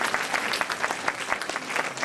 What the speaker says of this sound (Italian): Allora facciamo un applauso al loro candore, alla loro innocenza